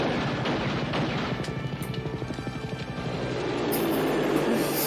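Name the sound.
helicopter in the film Lethal Weapon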